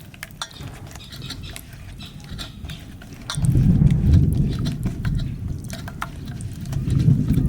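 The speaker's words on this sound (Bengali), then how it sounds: "পুরো কাসুন্দির মতন হয়ে গেল মশলা তো মাখানো হয়ে গেল" A spice paste of ground mustard and poppy seed, yogurt, turmeric, salt and mustard oil mixed by hand or spoon in a bowl, with soft clinks and wet squelching that turn louder and thicker halfway through, close and without talk.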